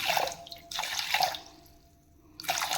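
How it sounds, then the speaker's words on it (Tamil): Half a tumbler of water is poured onto 100 grams of sugar to make syrup for Dindigul Gopalpatti palbun, giving close splashing pours in two or three bursts with short pauses between them. "அரை டம்ளர் தண்ணி ஊற்றி பாகு காய்ச்சிக்கலாம்"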